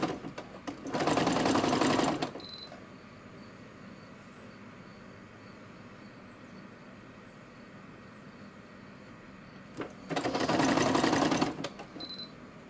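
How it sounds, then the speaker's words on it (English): A sewing machine stitches fabric pieces for a squirrel in two short, steady whirring bursts of about a second and a half each. Near-silence with faint background noise fills the long gap between them. "my machine is still doing that thing where it sews like 3 stitches"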